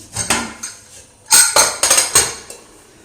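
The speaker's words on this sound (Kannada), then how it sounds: "ಫಸ್ಟು ಒಂದು ಕುಕ್ಕರ್ ಇಡ್ತಾ ಇದ್ದೀನಿ" A five-litre pressure cooker is set down with several sharp metallic clanks and knocks in a cluster, close and fairly loud, with no talk.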